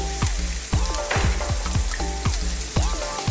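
Onion and chopped garlic frying in olive oil over very high heat, a steady loud sizzle with repeated clanks and scrapes of stirring, no voices.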